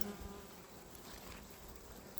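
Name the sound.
honey bees in a colony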